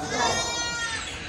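Goat on a farm bleating with a wavering, harmonic cry lasting over a second, close and fairly loud, while children feed baby goats from a bottle nearby.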